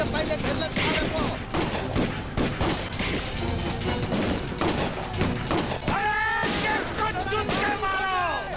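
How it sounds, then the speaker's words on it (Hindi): Gunfire during a shootout scene in the Bollywood action film Aanch, with dense bursts of shots and crashes running throughout, loud and busy, mixed with shouting voices and dramatic film sound. "गोली चला दे रहा हूँ"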